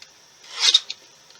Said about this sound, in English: So just use your trimmer and just cut them off.